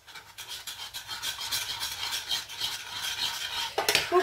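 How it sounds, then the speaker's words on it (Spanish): A spoon stirs béchamel into a thick stuffing batter for hake-filled peppers, making a steady wet scraping and sloshing close up with a brighter clink near the end. "Ahora hay que remover hasta que se integre todo"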